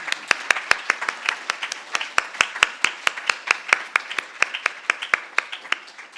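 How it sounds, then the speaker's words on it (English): Audience members at an annual scientific meeting clap in thanks, a sparse, fairly even run of distinct individual claps rather than a full roar, heard clearly in a quiet hall. "give them a round of applause and thanks"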